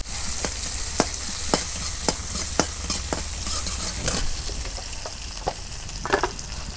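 Chopped onion and green chilies fry in a pan with a loud, continuous sizzle, punctuated by regular sharp scraping taps of a stirring spatula.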